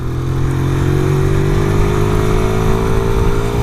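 A 2006 Honda CBR125 motorcycle runs steadily and loudly up close, its small engine's pitch rising slowly as it pulls away along a test track.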